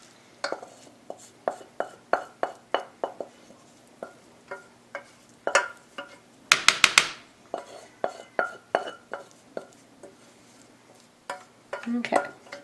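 Cooked rice is tipped into a strainer, giving a series of irregular close taps, scrapes and clinks of a spoon against metal, with a brief louder rattling burst midway and a cluster of knocks at the end.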